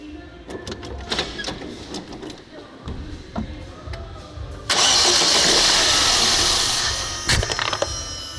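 A weak Ford car engine is cranked over, sputtering under talk, then catches and roars to a steady loud run, close by, with a few sharp clanks near the end.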